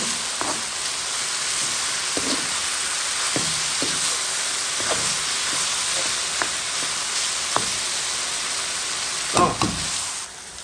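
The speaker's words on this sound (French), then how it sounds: "on regarde la viande il cuit bien, l'huile mijote, tout mijote bien" Pork and vegetables sizzle in hot oil in a sauté pan, a loud, steady hiss of frying with occasional scraping stirs and soft clinks, close up and without talk.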